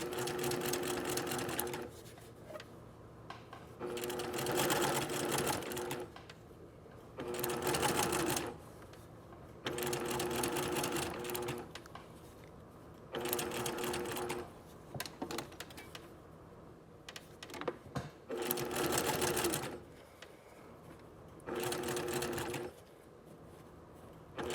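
A sewing machine stitching binding onto a neckline, running in repeated bursts of fast mechanical whirring and clatter, each lasting one to two seconds, separated by short quiet pauses.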